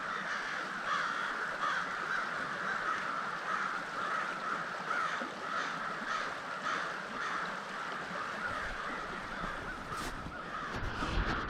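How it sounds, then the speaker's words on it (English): A large flock of crows gathered along Sawmill Creek caws continuously in overlapping harsh calls, a dense chorus at mid distance with some louder nearer caws. "the congregation of crows"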